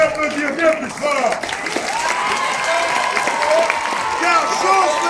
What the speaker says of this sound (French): Vous pouvez les applaudir bien plus fort.